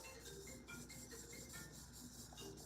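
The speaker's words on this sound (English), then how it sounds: "If you hear that, that's me rubbing the sand." Sand is rubbed off food in water while a cook prepares pepper stew, making a faint, continuous scratchy rasping that goes on steadily with no talk.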